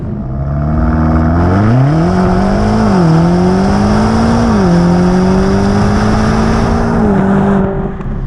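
A BMW M5 Competition drives on the road, its engine note loud and close as it climbs through the revs, eases off and pulls again in smooth steps, with steady road and tyre noise underneath.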